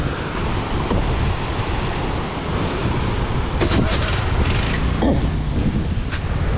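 Steady ocean surf rolls in at Batu Bolong beach in Bali, a continuous broad wash of breaking waves mixed with gusty wind rumble, with no voices over it.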